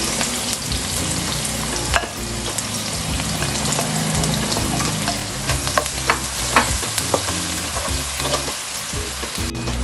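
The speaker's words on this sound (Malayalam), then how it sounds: "മറ്റൊരു സവാള കൂടി ഇട്ട് വഴറ്റിയെടുക്കണം." Sliced onion sautéing in hot oil for chicken pulao, a continuous loud sizzle with frequent stirring scrapes and clinks of a spoon against the pan.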